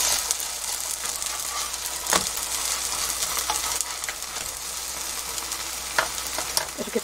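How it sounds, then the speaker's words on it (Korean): Grated potato pancakes (gamja-jeon) sizzle in oil in a frying pan with a steady, close crackle, broken by a few sharper pops and scraping stirs, and no voices. "그냥 쫀득하게 굽고 싶으면 이제 이런 식으로 구워주시면 돼요."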